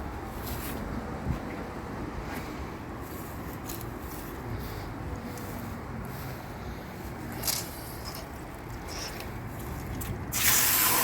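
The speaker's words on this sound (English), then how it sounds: "now what I'm going to do is take it, go rinse it out" Water sprays and splashes steadily while rinsing out a rusty, corroded motorcycle part, a continuous close hiss with occasional drips and a louder gush at the end.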